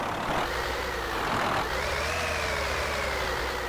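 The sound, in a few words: Kenworth T-660 truck engine starting and idling, Euro Truck Simulator 2 video game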